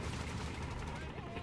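Enemy gunfire rattles in a Company of Heroes 3 battle with the Afrika Korps, dense and continuous bursts of shots layered over a busy, loud combat mix for the whole moment.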